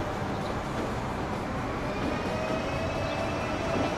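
A German ICE high-speed train passing in Transport Fever, heard as a steady, loud rushing roar of wheels and air that holds even for four seconds without a clear approach or fade.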